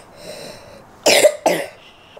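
Two harsh coughs from someone with the flu, close and loud, one after another with a short gap, over a faint background hum.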